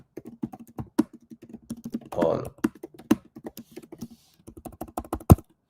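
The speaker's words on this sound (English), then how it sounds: "I'm just typing this in here. Typing this in." Fingers tap quickly on a computer keyboard in uneven bursts of crisp, close keystrokes, with a short spoken word near the end.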